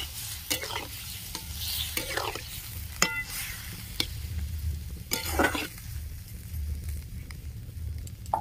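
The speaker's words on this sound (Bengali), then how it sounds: "পরিমাণ মতন জল দিয়ে দিচ্ছি।" Water is poured into a hot pan of sizzling beans and poppy-seed paste, giving several short bursts of hissing steam over a low, steady frying crackle, close and moderately loud.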